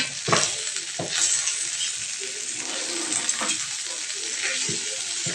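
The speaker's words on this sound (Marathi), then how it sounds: "आता कमी गॅसवर आपण चांगली भेंडी परतून घेऊ" Okra (bhindi) fries on low gas in a pan with a steady, close sizzle, broken by a few sharp clinks and scrapes as a utensil stirs it against the pan.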